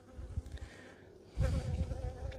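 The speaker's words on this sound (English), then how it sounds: "This is a kind of big bee." Bees buzz during a beehive inspection, a close, steady droning hum that swells louder halfway through, with no talk over it.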